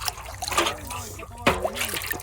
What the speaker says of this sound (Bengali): কেমন করে জল দিচ্ছে